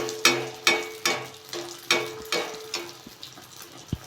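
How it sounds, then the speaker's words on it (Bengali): Poya pitha, a fried cake, cooking in hot oil: a steady sizzle broken by regular bursts of crackle and scrape about twice a second, close and fairly loud. "বাকিগুলো আমি একইভাবে ভেজে নেব।"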